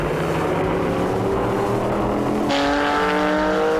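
Vintage race cars, a GT40 and Shelby Daytona coupes, rounding a bend on a circuit, their loud engines roaring together with a sharp shift in pitch as another car passes close by.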